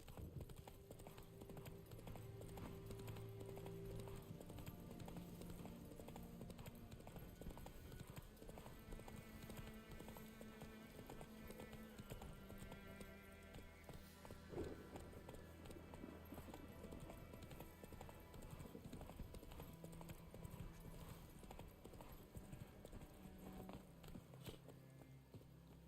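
Roach the horse from The Witcher 3 gallops in a steady, driving clip-clop of hoofbeats that runs through the whole stretch, layered over sustained orchestral game music.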